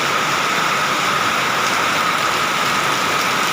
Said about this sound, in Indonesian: Kota Banjar sedang diguyur oleh hujan yang sangat deras